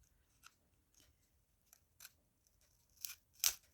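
Scissors cut through a tough piece of a grungy mini junk journal in several short, crisp snips. They are faint at first and grow sharper and louder toward the end, with quiet pauses between cuts.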